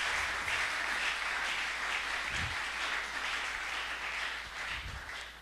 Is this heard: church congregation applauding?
yes